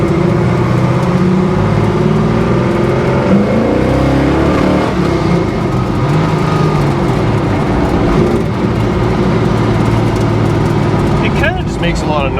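Engine of a 1971 Chevy Nova revs loud and strained as the clutch slips to get moving, a continuous droning roar with shifting pitch from inside the car, with voices talking over it.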